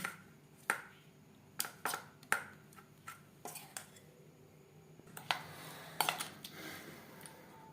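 Fish is mixed by hand with lime juice and spices in a bowl for a crispy fish fry, giving a series of sharp, close clinks and taps against the bowl at irregular intervals between soft squishing, fairly faint overall.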